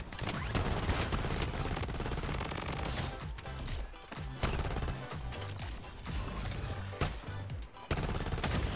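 Pistol fire from a whole team giving chase in the shooter Bloodstrike, loud rapid shots stacking into a chaotic, near-continuous volley with brief gaps between bursts.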